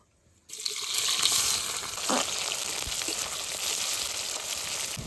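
Chopped onion with bay leaf, cinnamon, cardamom, cloves and whole cumin frying in oil for mutton kosha, a steady close sizzle and crackle with a few soft stirring scrapes and no talk.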